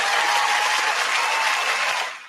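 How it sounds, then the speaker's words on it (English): Dense applause from an audience at the close of a hip-hop show, steady and loud throughout before tapering off at the end, with no voices over it. "Oh, that clap."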